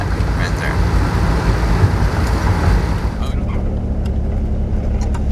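Car engine runs off throttle while coasting on the road, a steady low drone mixed with road and tire noise that eases slightly partway through, with someone talking over it.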